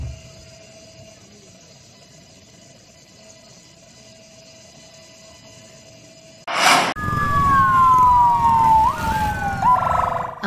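A quiet hum gives way to a loud wailing ambulance siren that sweeps up and down, close by, with crowd and engine noise beneath, during an Indonesian Independence Day parade in Kutai Timur.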